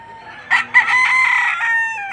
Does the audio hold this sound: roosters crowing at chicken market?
yes